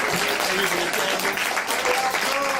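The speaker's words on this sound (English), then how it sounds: "we just have to once again give a brother a round of applause, Brother Kaba" Steady audience applause for a presenter at a talk, a continuous, fairly close wash of clapping with faint voices calling out underneath.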